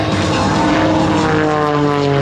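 A Zivko Edge aerobatic propeller plane roars close and loud at an air show, its engine holding a steady, strong drone with shifting pitch throughout.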